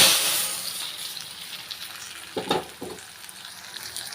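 A hot tempering of dried chilli, curry leaves and asafoetida sizzles loudly as it is poured into uppu saru, the bright hiss strongest at first and then settling, with a couple of stirring clinks.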